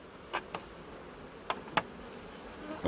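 Bees at the entrance of a strong, unfed hive on its landing board in Guyana hum faintly and steadily, broken by a few brief, soft ticks and taps.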